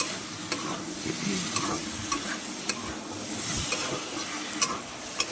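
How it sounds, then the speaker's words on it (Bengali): Potatoes sizzle and fry in a pan while a utensil stirs and scrapes, making sharp clicks at irregular intervals. "নাড়তে নাড়তে দেখতেই পাচ্ছ আমার আলুগুলো অনেকটা সিদ্ধ ভাব চলে এসেছে"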